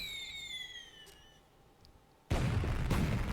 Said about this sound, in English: Lavish fireworks filled the night sky.